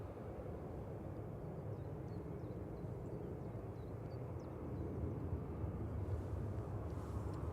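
An Aer Lingus Airbus A320-200 bound for Dublin from Manchester Airport, a faint, steady distant jet rumble that swells slightly toward the end, with no voices.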